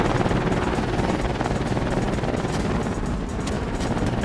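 A tiny custom-built helicopter in the video game Trailmakers flies with a dense, steady rotor-and-engine roar, loud and continuous throughout.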